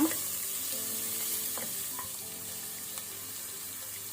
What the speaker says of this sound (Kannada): ಈರುಳ್ಳಿ ಸ್ವಲ್ಪ ಫ್ರೈ ಮಾಡುವ